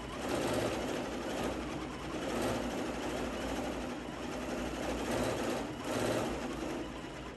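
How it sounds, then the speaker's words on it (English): A Janome Continental M17 sewing machine stitching steadily: a continuous close mechanical whir with gentle rhythmic swells in speed, no voices. "Do a couple stitches, lock it off."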